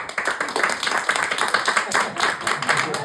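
Audience applause at a street magic show, voting for a trick, with a continuous patter of many hands clapping close by for about three seconds, with a faint murmur of voices underneath.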